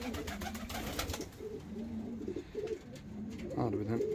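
Show pigeons of posta, bango, ornamental and costume breeds cooing in a loft, soft repeated coos rising near the end over a busy background of bird calls and rustling.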